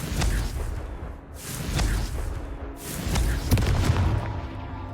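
The Confringo fire spell is cast repeatedly in Hogwarts Legacy, giving three loud booming blasts with whooshing bursts, spaced about a second or more apart, each falling away before the next.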